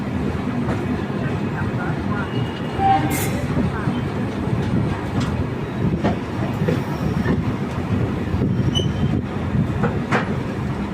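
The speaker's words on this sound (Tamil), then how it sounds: "ஸோ நம்ம சபரிமலை பயணத்தை சென்னையிலேருந்து போடிநாயக்கனூர் வண்டியில் ஸ்டார்ட் பண்ணலாம் வாங்க" Chennai to Bodinayakanur passenger train pulling out, a steady close rumble of carriages with faint rhythmic wheel clatter and occasional squeaks and clanks throughout.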